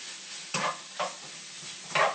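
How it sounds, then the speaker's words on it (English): Meat sizzles in a skillet at a quiet, steady level, with three distinct bursts of stirring scrapes and louder crackle spaced about half a second apart, no voices. "You should have meat going in your skillet."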